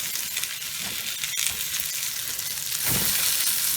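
Hamburger steak patties fry in a pan, giving a steady, close, loud sizzle and crackle throughout with no talking, and a brief scraping shake of the pan near the end.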